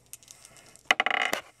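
Small plastic dice from a Pokémon trading card league battle set drop and clatter on a surface in one brief burst of bright rattling clicks after a faint tap, with no talking.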